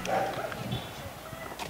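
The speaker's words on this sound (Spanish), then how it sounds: "ya viste qué bonitos perritos" Small dogs yap in a street, a few quick barks near the start and end mixed with outdoor background noise and faint voices.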